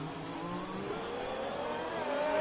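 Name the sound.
racing cars on track in F1 video game, Chinese GP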